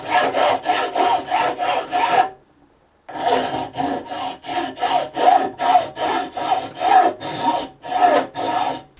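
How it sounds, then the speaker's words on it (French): A flat file rasping across a Durafix weld in steady, even back-and-forth strokes, close and loud, with a brief pause before the strokes resume at the same rhythm. "Allez, c'est parti, lime plate au début, hein."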